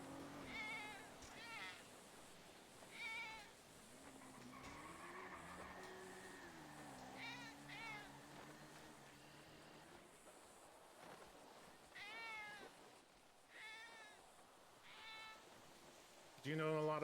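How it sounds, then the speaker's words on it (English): A pet cat meows several times in short, rising and falling calls, some drawn out and some clipped, with people talking nearby in between. "This cat, man, is so freaking cute."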